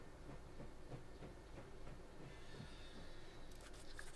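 A train rolling along in a video game, a low continuous rumble with soft rhythmic clacks and a faint hiss, quiet and steady with some brighter chirps near the end.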